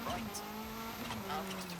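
A Seat Cordoba rally car in the EA WRC racing game on the Safari Rally, a steady engine drone with shifting tones and tyre noise running throughout, overlaid by a voice talking.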